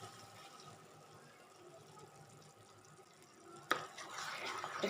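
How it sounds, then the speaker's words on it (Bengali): Near the end, spice paste water for a hilsa mustard curry goes into a pan with a sudden rushing splash and hiss after a quiet, low background hum. "এবার দিয়ে দিচ্ছি মশলা বাটা জল।"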